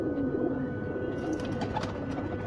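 Rampuri pigeons coo in a low, steady murmur, several birds close by, a continuous rolling burble without talk.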